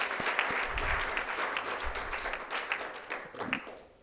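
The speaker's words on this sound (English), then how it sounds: "Maybe we need to clap for that." Audience at a university conference in Kenya claps in a moderate burst of applause that thins out and fades over a few seconds.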